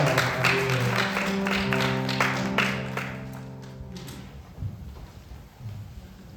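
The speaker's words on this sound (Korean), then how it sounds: "하나님 아버지께 영광의 박수를 드리겠습니다" A congregation claps in sustained applause at a church youth retreat worship service, gradually fading out, with a low sustained tone beneath it.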